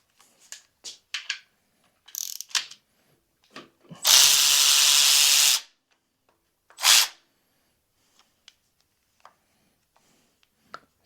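A power tool whirs in one loud, sustained burst of about a second and a half, then a second brief burst, while removing the tensioner pulley from a Toyota 2JZ engine, amid scattered clicks and clanks of ratchets and parts.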